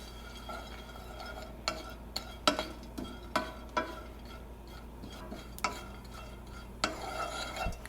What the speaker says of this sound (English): some of the pieces are starting to toast, so I'm going to keep an eye on it really close